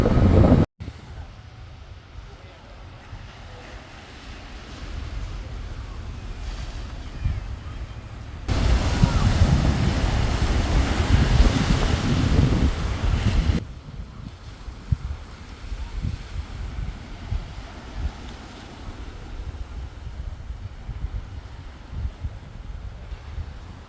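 Wind and surf on the beach at Puerto Carmen, Lanzarote, in the Canary Islands, a steady broadband rush with low rumbling gusts that swell louder for several seconds mid-clip before settling back, with no talking.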